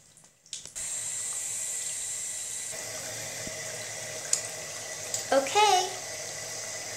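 A tap runs water for rinsing a doll's clothes, a soft steady stream after a few brief knocks, with a short gurgling splash near the end.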